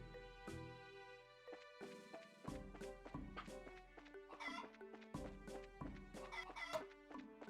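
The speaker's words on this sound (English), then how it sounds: "After we poke the chicken a few more times." Chicken clucking from the video game Trails in the Sky Second Chapter, a series of short repeated clucks and squawks over looping game music, fairly close and clear with no talking.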